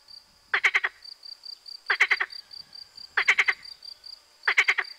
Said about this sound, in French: C'est là, sur le rivage boueux, que la grenouille vivait avec son fils, Pois, qui était laid.